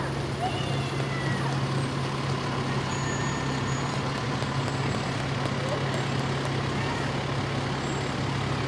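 A Stark Hose Company No. 1 fire truck rolls slowly past in the Bennington Battle Day parade, a steady loud engine drone with a low hum, surrounded by crowd noise.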